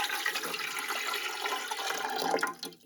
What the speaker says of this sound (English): What you're going to do with the bread machine is you're going to add all that water at once.